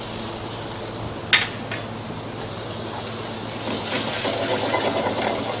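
Butter sizzling and foaming in a hot pan with Devonshire cod, a steady close frying hiss with one brief sharp crackle, growing a little louder toward the end.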